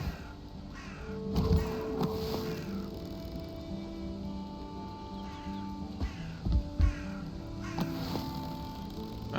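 Crows caw repeatedly in the video game Valheim, harsh calls coming at irregular intervals over a quiet outdoor ambience.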